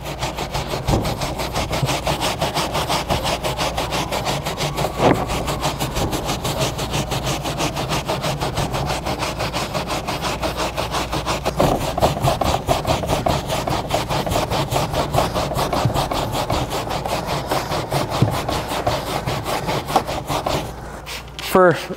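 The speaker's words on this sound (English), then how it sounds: "So let's use the soft bristle brush here." A soft bristle brush scrubs a damaged carpet with steady, continuous rubbing strokes, loud and close, running nearly unbroken with a few bumps and handling noises near the end.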